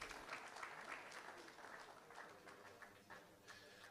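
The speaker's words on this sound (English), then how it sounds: "another resounding round of applause there" A gathered audience claps after a presentation at a foundation event, a steady wash of hand claps that holds evenly throughout at a moderate, slightly distant level, with no voices over it.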